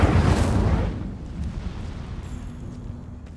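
An Incendio fire spell cast in Hogwarts Legacy: a loud, whooshing fiery burst opens, then fades into a low rumbling roar that tapers off over a few seconds.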